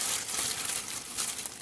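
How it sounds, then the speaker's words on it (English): A plastic bag crinkles steadily and close up as lemon juice and butter are added to crab for a garlic crab dish, a continuous rustle with no talking. "I'm going to add my lemon juice and my butter into the bag as well."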